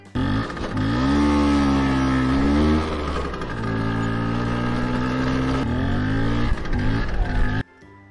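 A scooter engine drones close and steady, its pitch rising and dipping through several revs before cutting off abruptly near the end.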